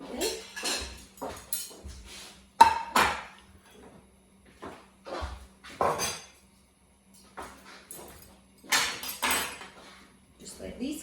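Plates and serving dishes handled in a home kitchen, with scattered sharp clinks and clatters separated by short pauses, close and fairly clear, alongside quieter kitchen sounds.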